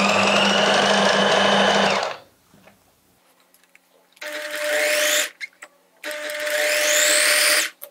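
A sewing machine stitches the fitting seams of a blouse in three loud bursts, the first about two seconds long and the last two longer runs with a quiet pause between them.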